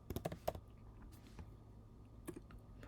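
Keys on a computer keyboard are typed in a quick burst of soft clicks at the start, then a few scattered taps over a quiet room hum. No one speaks.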